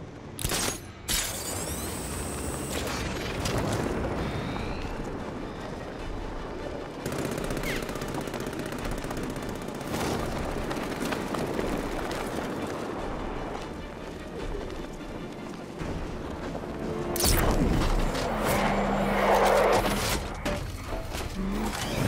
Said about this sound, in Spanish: Un disparo certero con el cañón de 60 milímetros del Batmóvil debería bastar.